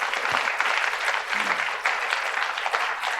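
Audience at an evening forum gives a speaker warm, steady applause, a dense wash of clapping throughout, with a brief voice or two surfacing under it.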